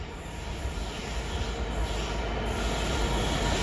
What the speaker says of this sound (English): first freight train is going to be Trafford Park London Gateway